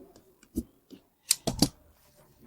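Scissors snip through old denim jeans fabric for a homemade bag, a few sharp crisp cuts close up, the last three in quick succession.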